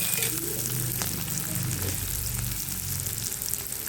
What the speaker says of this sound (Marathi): कांदा फोडणी दिला आहे